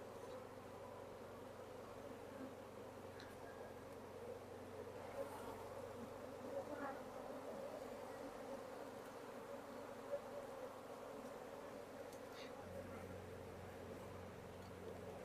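Honey bees buzzing around a hive frame full of pollen and honey stores, a steady close drone of many insects with a low hum underneath and no speech.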